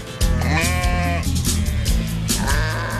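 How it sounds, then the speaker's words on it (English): Several sheep bleat loudly and close by in a rapid overlapping chorus, with wavering cries repeating throughout and no speech. "While Jake was off scaring the sheep"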